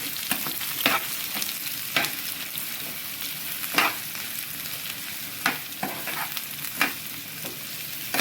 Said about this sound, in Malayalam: സവാള ഇട്ട് നമുക്കൊന്ന് നല്ലതുപോലെ ഇളക്കിയെടുക്കാം